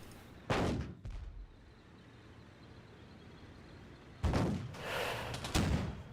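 Battle in the World War II game Theatre of War 2, with sharp gunshots and heavier artillery-like bangs in scattered bursts, a pair early and a louder cluster later, over a quiet low rumble.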